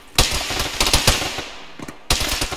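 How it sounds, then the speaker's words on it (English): Rapid machine-gun bursts in a war video game set around a bridge crossing, with loud close rattling volleys, a short pause, then another burst. "We're under fire from the west."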